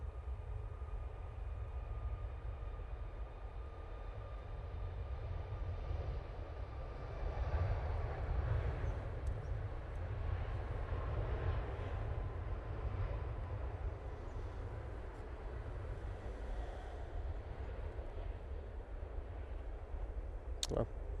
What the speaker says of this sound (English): TUI now on the roll. This is off to Paphos, and they're using the 737 MAX 8 for this flight.